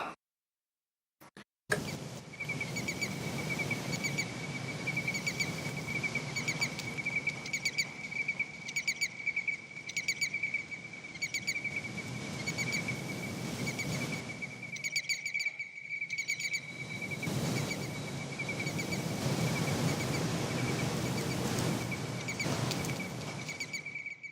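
Crickets chirp continuously in a dense, steady trill, fairly loud and close, with no voices, from the Empyreal AD sample library by Sample Logic.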